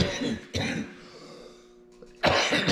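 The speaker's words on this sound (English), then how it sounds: "Now I've got coughs now." Two or three short, harsh coughs from a man working at a table saw, the bursts near and loud with quiet pauses between them.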